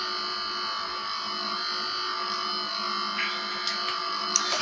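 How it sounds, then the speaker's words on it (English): A computer gives off a steady electric buzz like an electric toothbrush, continuous and unchanging throughout, with a few faint clicks near the end. "I don't know why my computer's been making this weird toothbrush sound."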